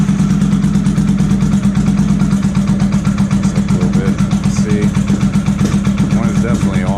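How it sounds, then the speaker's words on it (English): A 1983 Honda Shadow 750 motorcycle engine, fitted with newly installed carburetors, runs steadily with a loud, close, even low rumble throughout. A person talks over it part of the time. "I'm going to start the bike up"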